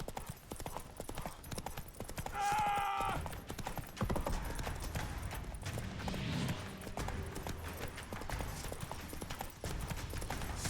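Roach, a horse in The Witcher 3, gallops in a steady rapid clip-clop of hooves over game music and effects, with a brief tonal chime partway through.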